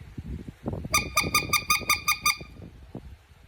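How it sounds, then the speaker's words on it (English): A speck goose call is blown in a quick run of about seven sharp, bright, reedy yelps, preceded and trailed by softer breathy grunts into the call. "start to slowly release the grip on the call until you hear that spec sound come out"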